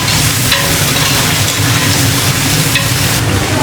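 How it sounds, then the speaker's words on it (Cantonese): Chili peppers frying in hot oil in a wok give a steady, close, crackling sizzle with scraping stir strokes throughout, while a Cantonese chicken pot dish is being cooked. No one speaks. "而家煎住個揦辣椒嘅"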